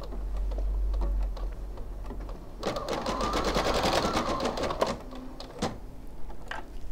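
A sewing machine stitching embroidery on a make-up brush holder after the presser foot is lowered: a few ticks, then a close, steady rapid stitching run of a couple of seconds, followed by lighter clicks.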